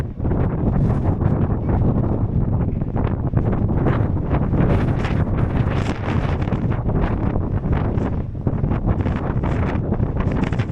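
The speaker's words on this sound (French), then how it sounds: "Il y a beaucoup de vent, il y a pas mal de vagues." Strong wind buffets the microphone over the Aegean Sea at Mykonos, with waves surging underneath in a steady, loud roar that never lets up.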